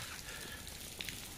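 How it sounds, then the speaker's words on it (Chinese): Light March rain falls on a residential area at Rushan Silver Beach, making a faint, steady patter with soft hiss and occasional slightly louder drops, and no voices. "这个三月里的小雨啊，淅沥沥沥淅沥沥沥下个不停啊"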